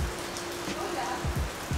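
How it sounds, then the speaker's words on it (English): Heavy rain near Arenal volcano in Costa Rica, a dense patter on leaves and surfaces with a few louder drips, close and steady. "So yeah, hopefully this rain lets up."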